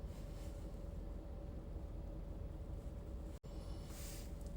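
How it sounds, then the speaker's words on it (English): Steady low rumble of cold wind buffets the microphone outdoors, a constant blustery roar with a faint tonal hum beneath and one brief dropout. "Look how windy it is."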